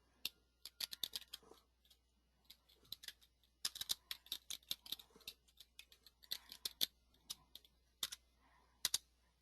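Rapid irregular clicking of typing on a computer keyboard, close and fairly quiet, with bursts of quick keystrokes separated by short pauses, no voices.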